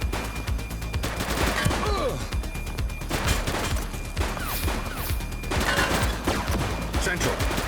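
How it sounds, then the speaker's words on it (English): Gunfire rattles through a police shootout in the video game The Precinct, with dense bursts of shots, crashes and impacts layered over game music and shouted voices. "He's shooting!"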